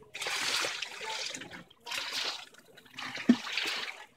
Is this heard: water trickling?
yes